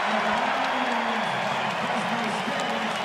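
A home basketball crowd at New Mexico's senior night game against Fresno State cheers and applauds in a loud, continuous roar, with a voice faintly audible beneath it.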